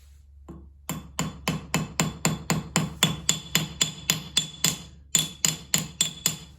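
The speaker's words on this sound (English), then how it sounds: "just utilize a flat body hammer and try to get that shape out" A rapid, steady series of sharp metallic blows from a flat body hammer on sheet metal rings out close by, about three strikes per second, with one brief pause midway.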